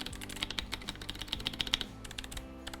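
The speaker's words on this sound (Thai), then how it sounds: "นี่คือไวท์สวิตนะ เสียงมันนิ่มมาก" Rapid clicky typing on a mechanical keyboard with Kailh Box V2 white switches, a quick run of soft, close keystrokes with no talking.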